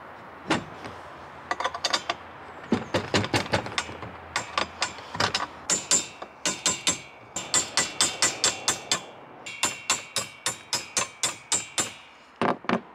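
A nut is unbolted from the mast fitting of a trailer sailer. Close, sharp metallic clicks come in quick irregular bursts, then settle into a steady rapid ratcheting rhythm, loud and without talk.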